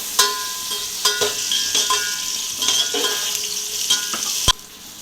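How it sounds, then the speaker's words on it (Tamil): Onions sautéing in a pan for biryani dalcha give a close, steady sizzle, broken by several sharp clattering spoon strokes as they are stirred; no one speaks. "இப்போ கொஞ்சோன்னு வெங்காயம் நல்லா வதங்கட்டும்."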